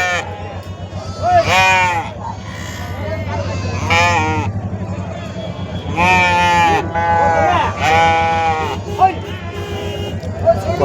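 Goats bleating repeatedly at a rural livestock sale, several loud close wavering calls spaced across the stretch over a low engine-like hum and background chatter.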